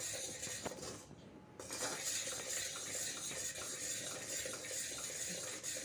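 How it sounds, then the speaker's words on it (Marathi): A spoon stirs cashew powder into sugar syrup in a pan over a low flame for kaju Mysore pak, with continuous scraping and soft clinks against the metal and a brief pause partway through. "आता मी इथे एक वाटी काजूची पावडर टाकत आहे छान असं मिक्स करून घ्यायचं गॅसची फ्लेम अगदी मंद ठेवायची आहे आणि कंटिन्युअसली फिरवत राहायचं"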